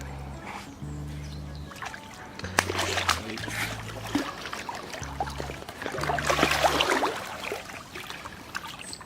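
Splashing and sloshing of pond water as a carp is let go back into a pond, several irregular bursts of splatter over about nine seconds, fairly close, with a steady low hum running underneath.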